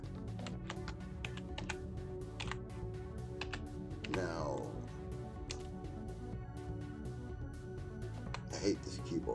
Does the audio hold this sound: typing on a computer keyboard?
yes